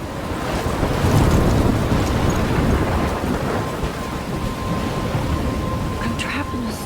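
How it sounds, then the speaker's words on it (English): In the Life is Strange video game, a thunderstorm roars with heavy, steady rain and deep rumbling thunder, loud and continuous throughout. "I'm trapped in a storm?"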